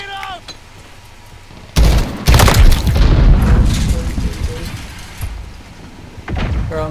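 Grenade explosion in the Call of Duty Modern Warfare video game, a loud booming blast followed by rumbling gunfire and game chatter, with gunshots and voices around it in a busy headquarters match.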